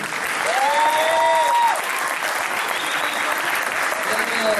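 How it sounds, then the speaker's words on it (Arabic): Sustained crowd clapping at a tribute ceremony for a Moroccan actor, close and loud, with a voice speaking over the ovation for a moment before the clapping carries on alone. "تصفيقات على هذا الجمهور الكريم"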